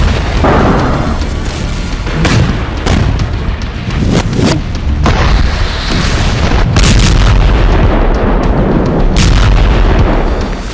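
Artillery shelling and explosions across areas of the West Bank, with repeated heavy booms and bursts overlapping in a continuous loud barrage of near and distant blasts.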